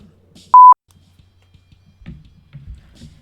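A mobile phone gives two short, loud, clean electronic beeps in quick succession, followed by faint low rumbling and soft bumps.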